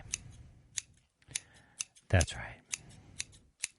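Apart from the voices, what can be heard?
scissors snipping while trimming cannabis harvest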